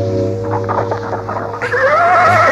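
A horse gives a loud, drawn-out whinny with a wavering, rising cry in the second half, following a stretch of steady background tones and softer sounds.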